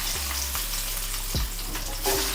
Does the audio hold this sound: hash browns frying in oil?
yes